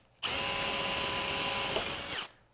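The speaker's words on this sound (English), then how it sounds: "All right, now I'm going to drill through." A power drill bores through aluminum on a robot chassis build: a steady, loud, high-pitched whine runs for about two seconds, starting and stopping abruptly, with no talking.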